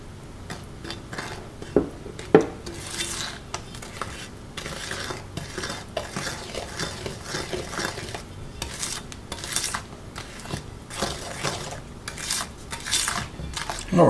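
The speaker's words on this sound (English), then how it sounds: "I'm going to just add a little bit of water to it" Water is added to a candied yam mixture in a cooking pot, with clinks of a utensil against the pot early on and soft stirring and scraping noises continuing throughout.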